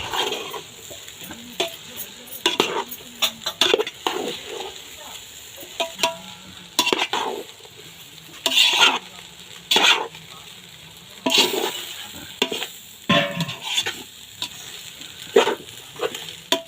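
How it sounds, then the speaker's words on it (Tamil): Fried rice with soy sauce and masala tossed in a pan: repeated loud scrapes and clanks of a spatula against metal in uneven bursts over a low, steady sizzle, close by, with no voices. "ரைஸோடு நல்லா மசாலாவை மிக்ஸ் பண்ணி எடுத்துக்கோங்க."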